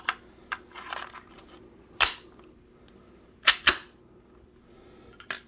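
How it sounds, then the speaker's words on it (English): A magazine snaps into a Glock-style toy gel blaster fitted with a suppressor, giving a few sharp plastic clicks and clacks close by, with two loud latching knocks and softer handling taps in between. "Let's insert a new mag."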